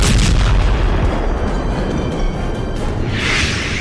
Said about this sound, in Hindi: क्रेमलिन के ऊपर ड्रोन का धमाका